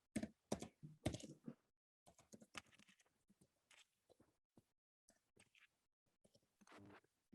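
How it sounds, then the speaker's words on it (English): Typing on a computer keyboard during an online talk on patent licensing, with slow irregular bursts of close key clicks and soft taps separated by short pauses in an otherwise quiet room. "Forgive me, my typing is slow."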